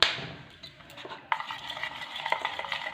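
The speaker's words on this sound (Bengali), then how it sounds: "কেকটাকে ভালোভাবে ফেটিয়ে নিচ্ছি।" Sponge cake batter of crushed biscuits and white oil being beaten with a spoon in a bowl, giving a steady run of close, light scraping and tapping strokes, with sharper clinks against the bowl and no talking.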